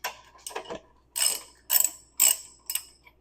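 A wrench ratchets while loosening the chain adjusters on both sides of a Ducati Monster 900, five separate bursts of clicking close up with short pauses between, no voices.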